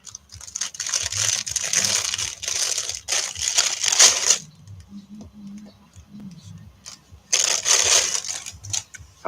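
Crinkly plastic wrapper on a handmade art doll, a sweater-wearing Sphynx cat, being unwrapped: two loud bursts of crackling and crumpling close up, separated by a quieter stretch with soft handling noises.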